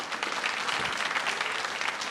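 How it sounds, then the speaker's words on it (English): An audience claps briefly in a dense, even patter of many hands, fairly close and steady for a couple of seconds. "You can clap."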